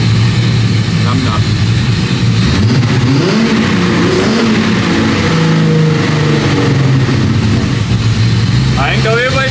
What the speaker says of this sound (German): Eigentlich wollten wir das Auto ja laufen lassen wegen Kupplung. Aber läuft schön eigentlich, ne?